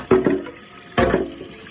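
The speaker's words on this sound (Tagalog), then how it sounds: "hugasan ko na nga din pala ang kawali. Kasi may mga mantika pa po." Tap water splashes into a sink while a frying pan still greasy with cooking oil is washed, two short close bursts of running and clattering water.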